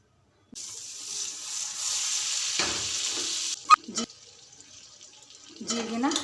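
Butter and cumin seeds sizzle in a pressure cooker on a gas stove, a steady frying hiss that stops abruptly. A few sharp metallic knocks follow, and a voice is briefly heard at the end.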